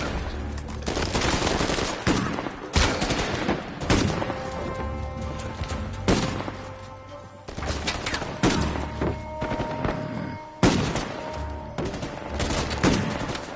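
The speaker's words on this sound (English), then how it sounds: "Wait, where's he shooting me from?" Rapid bursts of gunfire and machine-gun fire in the video game Uncharted 4, aimed at the player character, crackling in repeated volleys with heavy thuds and crashes across the scene.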